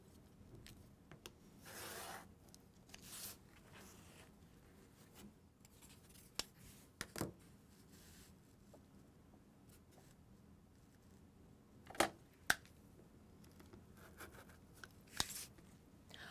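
Scissors cut through fusible fleece for a sewing project, giving quiet, scattered snips and rustles at an irregular pace, close by with no speech.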